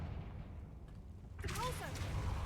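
Confringo fire spell cast in Hogwarts Legacy, a sudden bright burst with whooshing, crackling tones over a low rumbling game background, erupting midway and lingering to the end.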